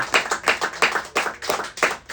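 Steady clapping from a church congregation, a burst of applause with rhythmic, overlapping claps at close range.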